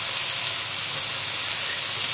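Red onions sizzle steadily in melted butter and oil on high heat, a constant close hiss with no talk over it.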